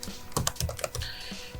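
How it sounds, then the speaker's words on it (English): Quick, irregular clicks of a computer keyboard being typed on while entering text with the type tool in Adobe Illustrator, close and fairly soft, with a few keystrokes standing out more sharply. "you just have to keep on typing"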